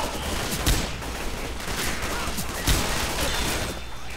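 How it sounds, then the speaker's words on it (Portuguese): Gunfire in Left 4 Dead 2 rattles along without a break in a dense, busy burst, with two sharper, louder shots standing out, and no talk over it. "E eles estão atirando em mim, caramba!"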